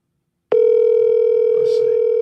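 A phone call's ringing tone plays through an iPhone speaker, a single steady electronic tone starting abruptly and holding loud and unbroken, with faint background noise underneath.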